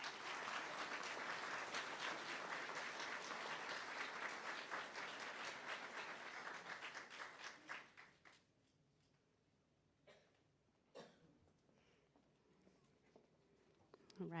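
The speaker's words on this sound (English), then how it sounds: "So we can give them a round of applause" Audience applause at a school district board meeting, honoring student performing groups; steady dense clapping for about eight seconds, then it fades out, leaving a quiet room with a few scattered claps and small noises.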